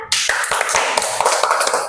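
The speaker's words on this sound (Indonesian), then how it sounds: "Berikan tepuk tangan" Schoolchildren in a classroom applaud a group presentation, a sudden loud burst of many quick hand claps, close and steady for two seconds.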